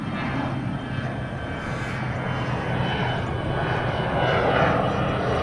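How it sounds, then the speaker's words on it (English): Airplanes passing overhead at the Houston Police Academy in Texas, a steady loud engine roar that swells slightly toward the end, with no talk. "We have planes going by constantly."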